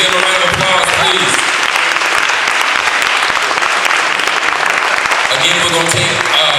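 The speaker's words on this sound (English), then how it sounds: "Mark Anthony Neal, Treva B. Lindsey, give him a round of applause, please." Sustained audience applause at a panel discussion, dense clapping filling the room at steady loudness, with faint voices and cheers audible in the crowd.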